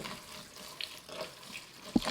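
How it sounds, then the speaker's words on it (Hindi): Tap water running into a deep pot holding fenugreek leaves, a soft steady hiss with a brief louder splash near the end, fairly close and with no talk. "पानी डालना है।"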